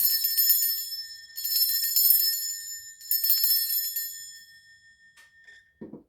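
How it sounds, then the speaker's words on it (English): A bright bell rings in rapid, shimmering bursts, three rounds of ringing that fade away, followed by a faint low knock at the end. "I'm going to ring this bell instead then until it comes back if it wants to."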